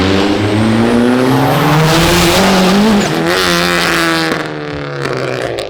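A Volkswagen-engine-swapped BMW E36 revs hard on a dyno, a loud sustained engine roar with rising and falling pitch that eases off toward the end, heard alone without talk.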